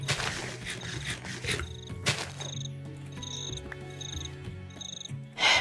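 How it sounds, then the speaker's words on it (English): Crickets chirp in the game Minecraft, with repeated bright pulsing trills coming in short bursts over a low ambient background; a louder rustle flares at the very end, and no one speaks. "And then we run away from the crickets"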